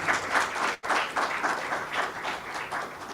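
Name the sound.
audience applause for panelists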